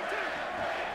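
Crowd cheering in the fighting game UFC Undisputed 3, a dense continuous roar of many voices at steady volume, heard as an ambient wash for about a second.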